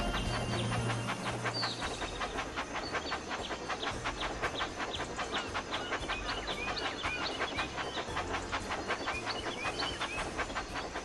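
Toy train from the Thomas and Friends Magic Track video game runs steadily on its track, a continuous rhythmic clickety-clack with faint hiss layered over background game music.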